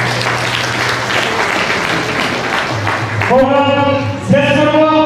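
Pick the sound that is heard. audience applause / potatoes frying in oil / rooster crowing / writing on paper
audience applause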